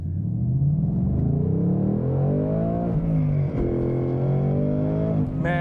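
Naturally aspirated Coyote V8 in a rear-wheel-drive Ford Mustang Mach 1 pulling hard, a steady rising engine drone climbing through the revs, dipping at a gear change, then climbing again, heard from inside the car.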